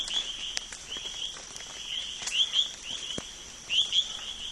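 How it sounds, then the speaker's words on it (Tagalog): Birds chirp and call in short bursts along a mountain trail, with a steady insect-like trill running underneath throughout; the calls are moderately near and no one speaks. "Naririnig niyo yung mga huni ng ibon na yon?"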